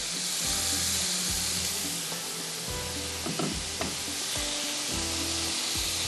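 Whole chilies fry in hot oil for a yakhni pulao, giving a loud, steady sizzle and hiss throughout, with a few sharp crackles and spits along the way and no voices.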